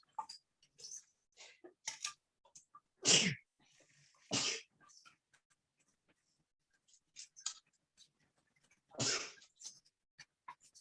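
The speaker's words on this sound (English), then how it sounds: "Oh, I gotta sneeze." Scattered soft clicks and rustles, then a sharp burst around midway, another shortly after, and a final loud sneeze near the end; fairly close and otherwise quiet.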